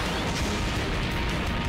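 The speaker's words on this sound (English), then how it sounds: "Big explosion!" A dense, roaring animated explosion blast fills the whole moment, loud and continuous with crackling rumble throughout.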